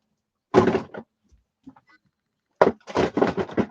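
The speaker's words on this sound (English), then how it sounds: "let's put some of my Timmy sprays and stuff back in that drawer" A drawer slides shut in an art room after sprays are put back inside, giving two clusters of sharp knocks and rattles about two seconds apart, fairly close and loud with a faint clatter between them.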